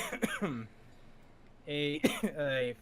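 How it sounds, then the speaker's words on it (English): A voice mixes with a short throat-clearing cough, then talking resumes over a second rough cough-like burst. "We all got cough going on."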